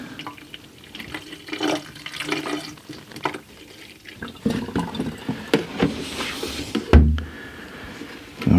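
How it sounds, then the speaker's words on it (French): Distilled water poured from a bottle into a car's coolant reservoir, an Opel Agila, with gurgling and splashing liquid in uneven bursts, close and moderately loud. "Donc je vais mettre de l'eau distillée allemande, Destilliertes Wasser."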